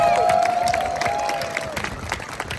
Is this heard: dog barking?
no